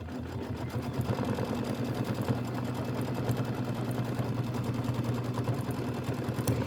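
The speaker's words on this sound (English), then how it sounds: "Go ahead and hit start. It's going to do the satin stitch on the sides," A home embroidery machine sewing a satin stitch on a mini quilt block, a steady rapid mechanical whir and clatter with a constant low hum, close and moderately loud.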